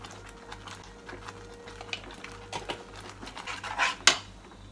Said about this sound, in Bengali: এটাকে কিন্তু এইভাবে নাড়তে হবে ভালো করে